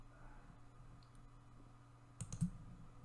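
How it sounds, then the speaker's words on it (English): A few quick computer mouse clicks near the end, faint and close, against a quiet room hum with no talking. "Click Apply and OK."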